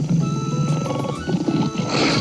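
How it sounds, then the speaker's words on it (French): A tiger growls in a 1990s French animated cartoon of Madeline, a loud, rumbling, continuous growl with pulsing throaty texture lasting a couple of seconds. "Le tigre grogne à leur passage."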